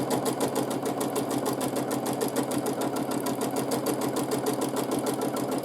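Sewing machine stitching a free-motion meander quilting pattern, a steady rapid mechanical chatter running continuously at close range with no voices.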